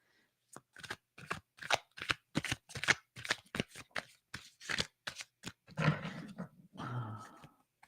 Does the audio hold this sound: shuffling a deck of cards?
yes